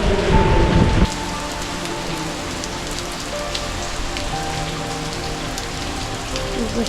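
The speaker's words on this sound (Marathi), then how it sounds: "आता बघू शकता मस्त पाऊस आलेला आहे" Steady monsoon rain patters on a surface nearby in a Konkan village, a dense continuous hiss of drops with no talking.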